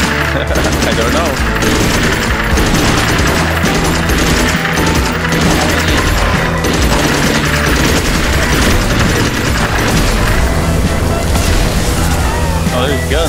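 Dense, loud gunfire in the video game Magicka Vietnam, a continuous barrage of shots and blasts layered with game noise and music for the whole stretch.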